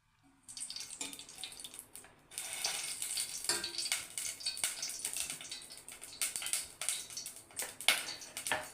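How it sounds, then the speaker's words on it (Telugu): Peanuts and cumin tempering in hot oil give a steady crackling sizzle with sharp pops, starting after a brief quiet moment and continuing close and moderately loud, with no talking. "ఇప్పుడు దీన్ని పోపు పెట్టుకుందాము"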